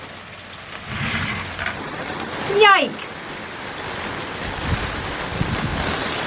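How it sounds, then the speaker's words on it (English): Steady broadband hiss of torrential rain with gusty wind on an allotment, a brief sharp exclamation from a nearby voice partway through. "Change of plan, torrential rain."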